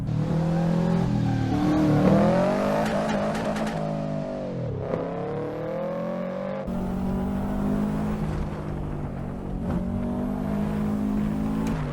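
A Subaru WRX in Assetto Corsa, racing up Pikes Peak: the engine revs hard and continuously, pitch rising and dropping through gear changes, loud and close throughout.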